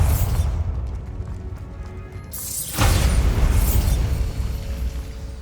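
A Bombarda spell in Hogwarts Legacy blasts a barricade: a rumbling build ends in a loud, deep boom and crash near the three-second mark, followed by a sustained roar of debris.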